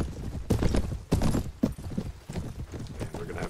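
Horse hooves clip-clop in the video game Mount & Blade, a run of close, irregular thudding steps at a walking pace.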